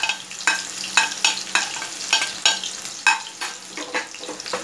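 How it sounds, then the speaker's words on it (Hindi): Onions fry in hot oil in a pan for a chana dal dish, with a bright steady sizzle punctuated by rhythmic, fairly loud stirring scrapes roughly every half second. "अब मैं डाल दूंगी इसके अंदर ये प्याज"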